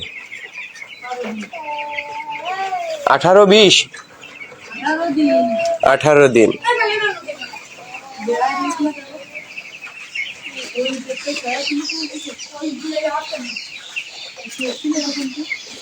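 Around a thousand broiler chicks on a family poultry farm cheep in a constant, busy chorus of high chirps, with a few louder calls nearby, while people talk over them.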